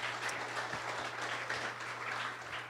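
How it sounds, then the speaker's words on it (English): An audience at a community development event in Duluth gives a steady round of applause, a dense wash of many hands clapping at even strength throughout, heard from within the room and fairly quiet overall. "So let's give her a round of applause."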